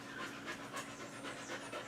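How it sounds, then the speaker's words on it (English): A dog pants close by in rapid, even breathy bursts that repeat throughout, fairly quiet over a soft background hiss. "Now you can hear Lady Dog"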